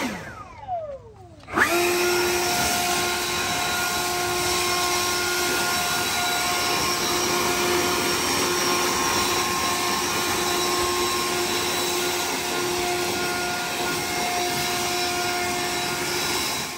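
Milwaukee M18 FUEL dual battery backpack blower starts with a rising whir, then runs at a steady, loud, even whine with a constant high tone, holding unchanged for over fifteen seconds with no talking.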